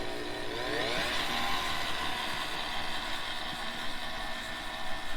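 A Cuisinart stand mixer running steadily with its paddle attachment, churning cookie dough made with lard, a continuous loud motor whine with a rising pitch near the start and no pauses.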